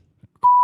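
A single loud censor beep, a steady pure electronic tone, cuts in abruptly and holds to the end, following a few faint murmurs of speech.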